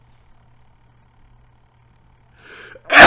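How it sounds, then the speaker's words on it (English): Near silence, then a brief sharp intake of breath leads into one loud, close sneeze at the very end. "I've been sneezing all day."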